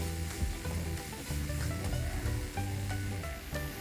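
Chilli powder and salt sauté in oil in a pan for a mint pickle, a close, steady sizzle broken by repeated scraping stirs, no voices.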